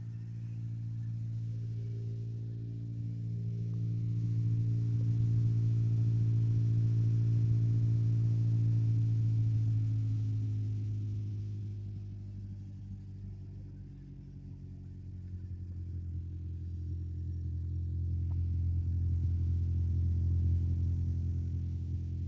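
A manual car engine idles with a steady low hum that swells, dips around the middle and rises again, continuous and close, with no voices.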